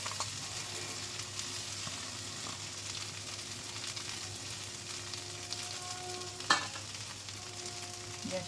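Potatoes frying in a pan for aloo with khasta kochuri, a soft, even sizzle throughout with a single sharp utensil clink late on.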